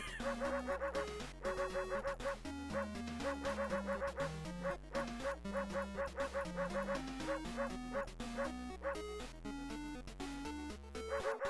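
Shop Dog in the World of Horror video game, yipping and barking in a repeated, rhythmic chiptune-like pattern, steady and moderately loud over several seconds.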